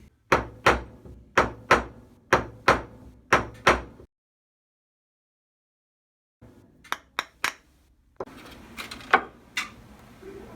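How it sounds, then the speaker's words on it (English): A big plastic hammer pounds dry clay in a mortar and pestle: seven sharp, evenly spaced thuds, a pause, then a few quicker knocks followed by gritty grinding and scraping. "I like to put it in a mortar and pestle. Use a big hammer, big plastic hammer."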